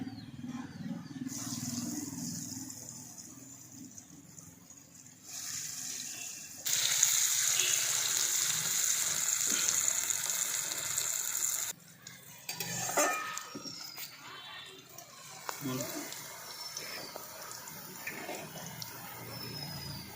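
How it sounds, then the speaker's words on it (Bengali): Cut pieces of dhoka, a lentil cake, frying in hot white oil in a home kitchen, giving a loud steady hiss and sizzle that flares up in bursts, with clinks of utensils between quieter stretches. "তেলটা গরম হয়ে গেছে, আর এরপরে আমি পিস কাটা ধোকাগুলোকে ভেজে নিচ্ছি।"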